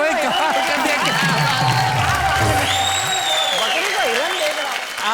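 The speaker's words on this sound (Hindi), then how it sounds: "एक बार जोरदार तालियां भाई" An audience at a Hindi comedy poetry show bursts into loud applause and cheering, a sustained crowd roar with a voice speaking over it throughout.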